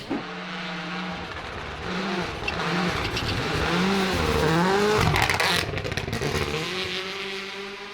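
A rally car engine roars and revs continuously on an all-snow stage, pitch rising and falling as it accelerates past, loud and close with some clattering underneath.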